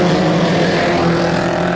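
Race cars at Showtime Speedway on Easter night roaring together under green, a loud sustained engine drone with layered harmonic whine, steady and close, no talk audible.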